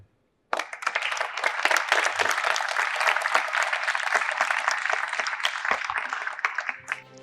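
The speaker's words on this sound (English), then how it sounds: "Please keep on applauding." An audience at a youth Model United Nations event bursts into applause for honoured guests, with dense, loud clapping that starts abruptly and continues steadily for about six seconds before fading out.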